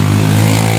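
A heavy motorcycle engine drones loud and close, a steady deep rumble in a coffee plantation.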